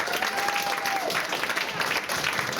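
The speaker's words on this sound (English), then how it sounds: "Let's give her another round of applause." A studio audience on a television talk show applauds in a steady burst of clapping with a few crowd voices and a brief whistle mixed in.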